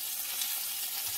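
Stuffed chicken breast frying in a pan, a steady, close hiss of sizzling oil with no pauses and no voices.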